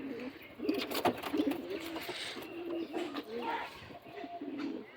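Madras pigeons cooing, a fairly continuous murmur of low, soft coos from several birds close by, with occasional faint chirps over light background noise.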